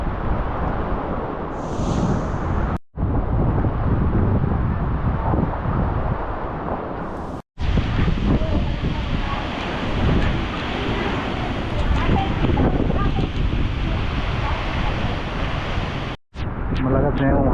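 Strong typhoon wind roars steadily and loudly in Daet during a storm with flooding and power outage, a dense continuous rush broken by a few brief cuts.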